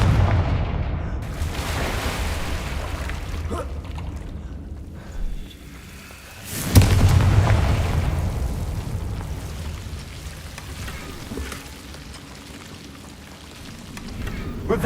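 Confringo spell blasts from the Hogwarts Legacy video game land as heavy rumbling booms, one sharp impact about halfway through and then a long low roar.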